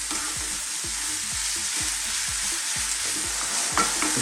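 Minced beef with paprika, garlic and onions frying in a pan while a utensil stirs it in steady rhythmic scrapes, roughly two per second, over a continuous loud sizzle.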